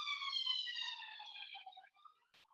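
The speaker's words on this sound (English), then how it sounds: "we're in London, so there's some ambulances around" An ambulance siren passes outside in London, a faint, distant wail with a steady pitch that fades away over a couple of seconds, then briefly nothing.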